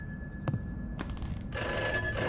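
An old telephone's bell in the horror game Summer of '58 starts ringing: a couple of brief clicks, then a sustained bright metallic trill that sets in sharply and continues to the end over a low hum.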